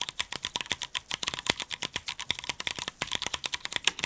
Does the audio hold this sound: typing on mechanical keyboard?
yes